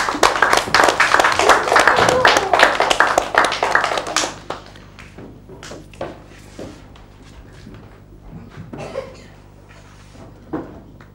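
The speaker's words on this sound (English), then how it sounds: "And this group also gets a big clap." Young schoolchildren in a Year 1 mathematics classroom clap loudly together for a group, a dense burst of many hands lasting about four seconds before it stops abruptly, leaving quiet classroom shuffles and scattered sounds.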